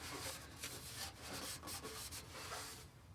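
Wax and tar remover is rubbed by hand onto a rusty, grimy exhaust pipe of a Lexus GX470, giving a faint, continuous scrubbing hiss with small surges and no speech.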